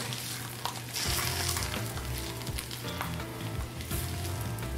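A quesadilla tortilla fries in a pan with fat, giving a steady close sizzle and crackle with occasional louder spits, heard alone without talk.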